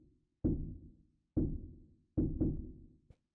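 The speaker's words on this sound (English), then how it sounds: "this is called the rim shot kick because the way that I made this was by taking this" A deep, booming kick made from a rim shot sample pitched down very low hits four times in an uneven pattern, each hit decaying quickly into silence, followed by a faint short tick.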